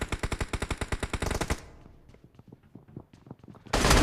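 Rapid bursts of automatic gunfire in a video game: a fast run of sharp repeated shots, then quieter scattered pops and thuds, ending with a sudden loud blast of noise.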